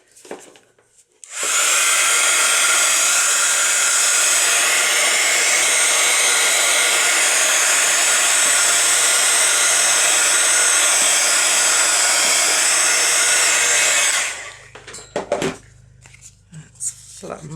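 Hair dryer drying paint on a craft tag, a loud steady blowing roar held for about twelve seconds before switching off, followed by faint handling noises.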